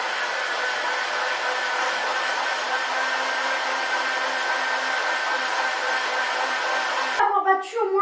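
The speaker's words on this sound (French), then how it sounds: "on va prendre les 2 œufs et on va rajouter le sucre, donc le sucre roux. Et on va les battre beaucoup pour que ça devienne très mousseux." An electric mixer beats two eggs with brown sugar for pop cakes, a steady close whirring drone that runs for about seven seconds before cutting off, followed by a brief clatter.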